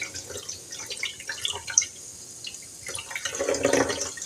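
Running water rinses small sprouting seeds in a gentle stream, a soft continuous trickle with dripping and splashing that swells louder toward the end.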